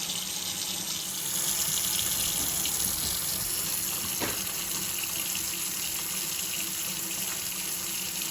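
Water from a kitchen tap in a cheap old house runs after frozen pipes are thawed. After a short quiet start it becomes a steady, close, continuous gush and splash into the sink, with no talking.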